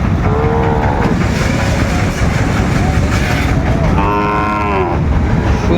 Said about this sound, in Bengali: শাহিওয়ালের ষাঁড় বাচ্চা দেখছিলাম